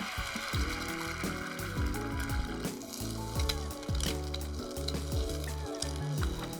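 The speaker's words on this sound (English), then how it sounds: "we're going to make an over easy egg" An egg fries over easy in a pan for Taiwanese purple sticky rice rolls, giving a steady, close sizzle that runs throughout with a dense, busy texture and no talking.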